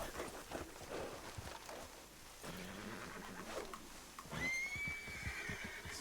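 In Red Dead Redemption 2, a horse gives loud, shrill whinnies and snorts while hooves clop and shuffle beneath, the neighing rising clearly near the end.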